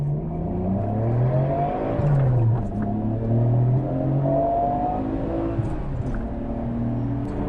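A 1993 Nissan GT-R R32 pulling hard in first gear, its engine note climbing steadily in pitch as it revs up, heard loud and steady from inside the car, without talking.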